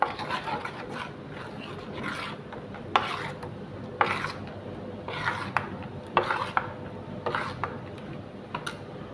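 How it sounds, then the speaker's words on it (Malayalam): Kalathappam batter mixed with jaggery syrup is stirred in a bowl, giving a steady rasping scrape with sharper strokes about once a second, close and moderately loud, with no voices. "ശർക്കര പാനി ഒഴിച്ച് വയ്ക്കാൻ നമുക്കത് ഒന്ന് ഇളക്കി കൊടുക്കാം"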